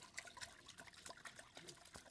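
Water mixed with shampoo is poured into a bucket, about 2 litres of water with 20 ml of shampoo, giving a soft, steady trickling and splashing that runs throughout at low level.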